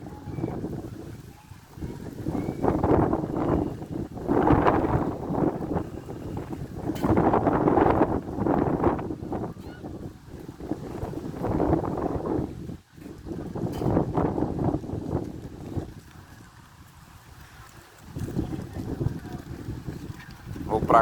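Strong wind buffets the microphone in loud, rolling gusts that rise and fall outdoors, with someone speaking intermittently between the blasts.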